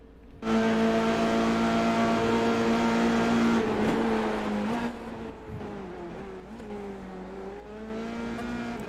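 Race cars in a racing sim game roar past under a continuous engine drone, pitch rising and then dropping as they go by, with steady revving and no talk.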